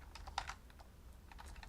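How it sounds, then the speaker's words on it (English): A name is typed on a computer keyboard in a quick burst of soft, close key clicks with a short pause between keystroke runs, quiet and without talking. "I can start typing someone's name"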